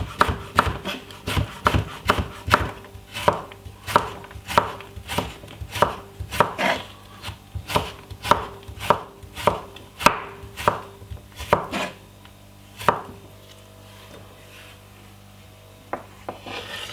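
Knife chopping cucumber on a wooden board for a celery salad, with about two dozen crisp, evenly spaced close thuds in a steady rhythm, then a pause and a couple of faint taps.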